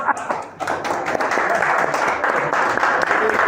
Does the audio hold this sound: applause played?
yes